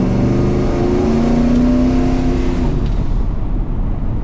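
A 1965 Chevrolet Chevelle Malibu with a 396 big-block V8 roars loudly from close by as it accelerates, with engine pitch climbing steadily and then dropping as it shifts, continuous and without talk.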